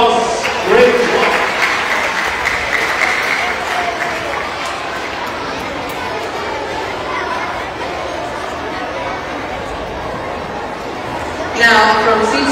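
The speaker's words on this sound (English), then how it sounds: "Excellent applause." Pupils and parents applaud at a school spelling bee, a broad round of clapping mixed with crowd chatter that swells early, tapers, and rises again near the end.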